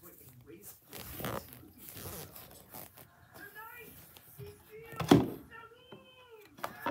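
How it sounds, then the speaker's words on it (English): A cat meows several times as it comes indoors after a long rainy day, with short rising and falling cries near the mic, one louder than the rest, mixed with rustling, clothing noise and nearby movement. "I have a cat coming in from a long day of raininess."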